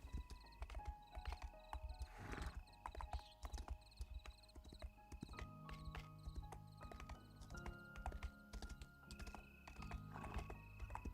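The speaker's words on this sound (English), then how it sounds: "Now do you hear the hoofs?" A fast, rare mount's hooves clop in the Pantheon game, a rhythmic run of hoofbeats mixed with game ambience, occasional neighing and faint keyboard typing, all fairly quiet.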